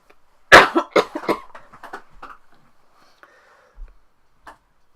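A single loud cough bursts out, then fades into a few softer throat sounds and small scattered clicks in an otherwise quiet room.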